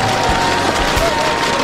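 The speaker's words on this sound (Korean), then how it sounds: "영광의 준우승 다시 한번 정명훈 선수에게 축하의 박수를 부탁드립니다" Applause and cheering from a live esports crowd at a StarCraft Starleague final, honoring the runner-up on stage; dense, steady clapping fills the room loudly throughout, with a faint tonal hum running underneath.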